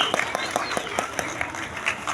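An audience at a school annual prize ceremony claps steadily, a dense patter of hands filling the hall for a couple of seconds with some voices mixed in.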